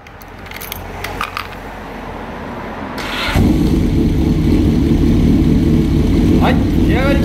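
A Honda CBX550F motorcycle with a four-into-one collector exhaust cranks and fires up, then settles into a loud, steady rumbling idle, with light mechanical clinks beforehand.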